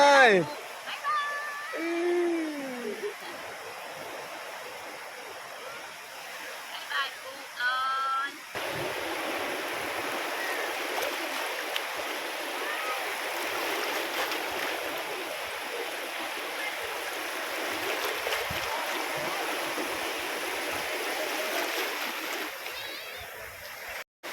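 Sea surf at Chao Lao beach in Chanthaburi, a steady broad wash of breaking waves and splashing water close by, with voices talking over it early on before the water noise carries on alone.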